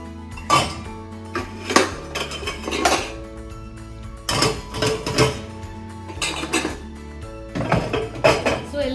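Plates and dishes clatter and clink as they are arranged in a Bosch dishwasher rack, a series of close, sharp ceramic knocks in uneven bursts with brief pauses between.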